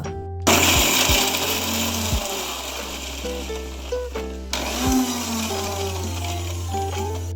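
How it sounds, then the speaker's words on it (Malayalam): Mixer grinder whirring loudly as ginger, garlic and a green chilli are ground into paste in a mini jar, running in a few short bursts with brief stops between them, no talking. "ഇതൊക്കെ ഒരു മിനി ജാറിലിട്ട് നല്ലോണം അരച്ചെടുക്കുക."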